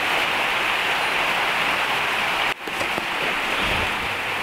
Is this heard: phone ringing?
no